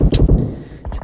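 Shotgun fire in PUBG Mobile, a few loud, punchy blasts close together at the start followed by quieter game noise and a couple of fainter later hits.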